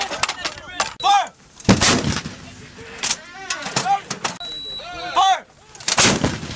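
A shoulder-fired weapon goes off during U.S. Marine mechanized assault training, several sharp booming blasts spaced across a few seconds, with shouted commands between shots.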